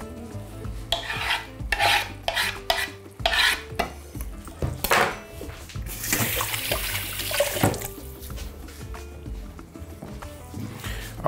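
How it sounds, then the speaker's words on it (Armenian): Boiled water is poured into a chicken sauce in a pot, followed by a spoon stirring and scraping, giving irregular splashes and scrapes with a louder watery rush midway. "Ավելացնում ենք կես բաժակ եռացրած ջուր։ Խառնում ենք"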